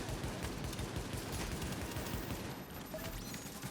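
Steady, dense gunfire rattles continuously in a firefight in The Division, with shotgun blasts among the shots, fairly distant and muffled, forming an unbroken background barrage with no speech.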